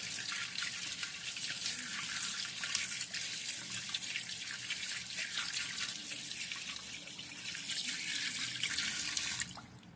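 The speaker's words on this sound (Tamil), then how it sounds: "இப்போ நம்ம அந்த உள்ளே இருக்க வேஸ்ட் எல்லாம் எடுத்துட்டு டேப் ஓப்பன் பண்ணி நல்லா வாஷ் பண்ணிக்கலாம்" Tap water runs steadily into a sink while a crab is washed, a continuous close splashing that cuts off abruptly at the very end, with no voices.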